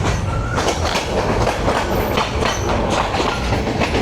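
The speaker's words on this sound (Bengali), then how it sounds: "এই যে ট্রেন চলে গেছে ট্রেনের ডান দিকে।" On a Bangladeshi rail line between Dhaka and Chattogram, a train rushes past close by, a loud continuous rumble with rhythmic clickety-clack of wheels over rail joints and no talking.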